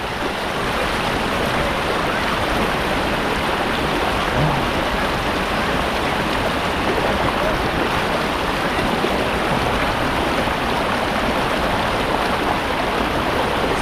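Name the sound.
clear river water flowing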